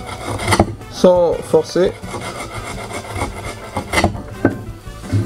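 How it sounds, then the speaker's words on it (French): A sharpened chisel cuts across the end grain of wood, giving rough rasping scrapes in short strokes, close and loud, while someone speaks briefly. "essayer de découper le bois par le bout, ce qu'on appelle le bois debout"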